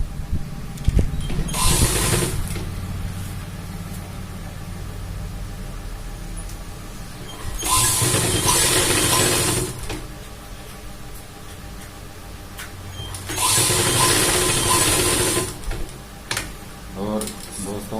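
A sewing machine stitches a diagonal seam along a shirt placket in three loud bursts of a few seconds each. Quieter stretches of handling noise separate the bursts.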